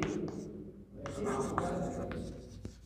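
Chalk or marker scratching out strokes on a board during a nutrition lecture, several short scrapes and taps in quick bursts, fairly faint, with a quiet voice speaking between them.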